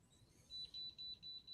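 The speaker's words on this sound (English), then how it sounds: "It's still beeping." A thin, high-pitched electronic beep from an Apple II computer under logic board repair repeats in short pulses, four bursts in quick succession, fairly quiet against a low background hum.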